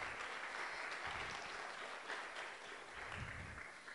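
Audience applause at an international agricultural science congress, a faint, distant and continuous patter of many hands clapping, steady throughout with no talk over it.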